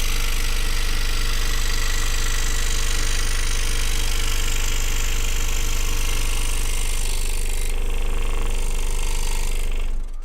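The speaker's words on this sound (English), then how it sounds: "with these brand new Nequa blades, it just goes right through this plywood, Baltic Birch plywood, like hot butter" A scroll saw fitted with new Nequa blades cutting Baltic birch plywood, a loud, steady rapid buzzing chatter of the reciprocating blade running continuously, close up, with no talking.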